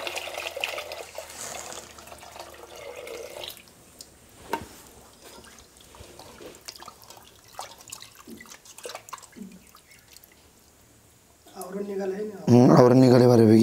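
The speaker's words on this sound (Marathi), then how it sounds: "आता आपण थंड पाणी घेऊन ते व्यवस्थित धुवून घेऊ." Boiled wet cashews are rinsed in cold water in a home kitchen, with scattered drips and small splashes, then a sudden loud gush of pouring water at the end.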